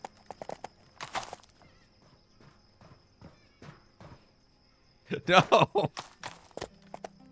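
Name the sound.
horse hooves clip-clopping in The Anointed video game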